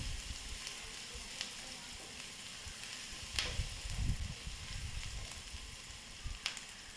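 Bitter gourd (pavakkai) sautéing in a pan with a little salt, a steady low sizzle with occasional soft stirring scrapes and clicks, fairly quiet and continuous with no talking.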